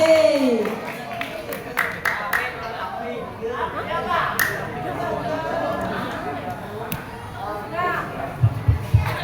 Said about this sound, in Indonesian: tepuk tangan untuk Gabe dari kelas 10C